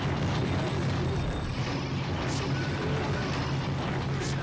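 Rocket blasts from an enemy gunman in the action game Gungrave roll through a loud, continuous rumble of gunfire and effects, with sharper bursts standing out near the middle and end.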